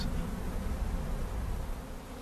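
Honeybee drones buzzing inside a colony carrying a high Varroa mite load, a steady dense low drone of many wings close by, continuous without pause.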